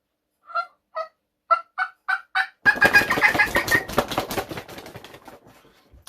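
A hat slapped against the chest to imitate a wild turkey's wings beating as it flies down off its roost, heard as a burst of close, loud flapping thumps fading over a few seconds, after a short run of clucking turkey-call notes.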